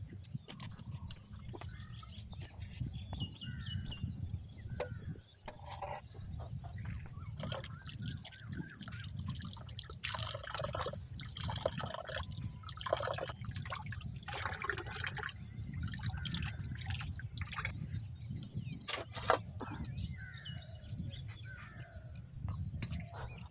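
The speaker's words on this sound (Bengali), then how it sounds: "মা, আমি এই যে মাংস ধুয়ে নিয়ে চলে এসেছি।" Chicken meat is rinsed by hand: continuous splashing, dripping and sloshing water close by, with brief clatters throughout and a steady hum underneath, with no talking.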